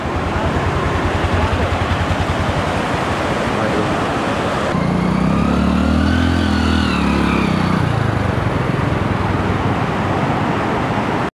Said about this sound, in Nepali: हाम्रो बटले बाइक कुदाउँदैछन् यहाँ पुलमा